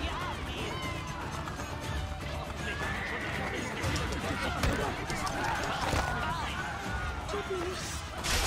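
A horse ridden in the Assassin's Creed Brotherhood game whinnies and clatters amid a noisy combat scene, hooves and crashing hits over a busy background, with someone talking over it.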